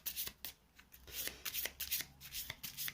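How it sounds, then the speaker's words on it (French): A deck of cards being cut and shuffled during a solo session of the board game The 7th Continent, a run of crisp, close riffling flutters with soft papery slaps and no voices. "Ouais, je vais aller piocher 2 cartes seulement. Allez, on coupe."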